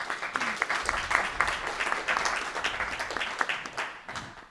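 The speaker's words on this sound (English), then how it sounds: "I'd like you to give them a round of applause" An audience applauds panelists at the close of a workshop session, sustained clapping from a room full of people, even and fairly loud before tapering off at the end, with faint voices underneath.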